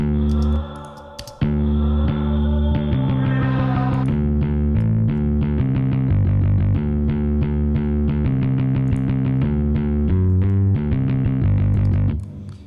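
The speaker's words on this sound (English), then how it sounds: "Let's just play the bass if we can." An electric bass riff with distortion and chorus effects, playing a steady rhythmic pattern loud and alone for several seconds after a brief intro.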